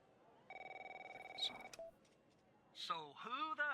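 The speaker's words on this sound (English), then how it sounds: "I was about to get a phone call last time." In The Operator video game, a telephone gives a rapid pulsing ring for about a second, followed by clicks and then a voice on the line.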